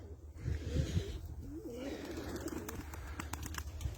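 Pigeons in a wooden coop with newly hatched chicks coo softly and repeatedly while being fed, nearby over a low background hum, with a few light clicks and taps toward the end.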